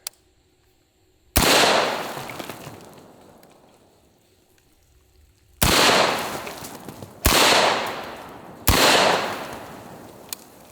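Rifle shots at targets ring out loud and sharp, one at first and then three more in a quicker cluster near the end, each followed by a long decaying echo across open ground.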